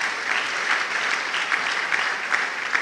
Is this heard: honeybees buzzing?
no